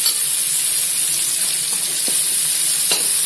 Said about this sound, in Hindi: इसमें हम डाल देते हैं अदरक लहसुन को जो हमने कूट कर रखे हैं, इसको भी हमने भून लेते हैं।